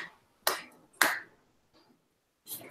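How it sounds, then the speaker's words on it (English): A few sharp, close hand claps or snaps, irregularly spaced with short silences between them, bright and percussive with no speech. "You clapping for me?"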